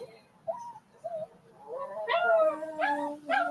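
A dog gives a few short yips and whimpers, then breaks into a rising howl with a couple of drawn-out wails, fairly close over faint background noise.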